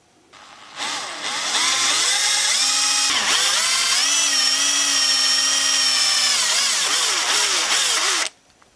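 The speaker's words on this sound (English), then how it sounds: "we're going to use this machinist bit. This will start the small hole and it will drill out the post as well." Drill with a machinist bit boring out the post on a 1968 Matchbox No 1 Mercedes die-cast truck, one continuous close high whine lasting about seven seconds, its pitch dipping and recovering under load before it cuts off.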